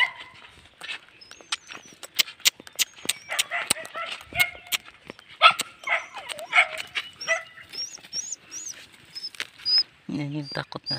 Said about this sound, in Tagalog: Lumapit sa akin ang takot na aso.